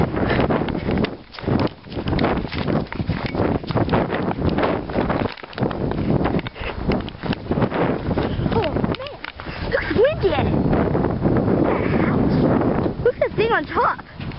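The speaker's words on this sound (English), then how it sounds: "This wind's very strong. It's gonna get stronger." Strong gusty storm wind buffets the microphone in heavy, uneven rumbling blasts that continue almost without pause, while someone talks over the roar.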